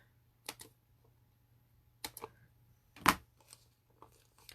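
A few sharp, quick snips of scissors cutting, in short separate bursts against a quiet background, close up.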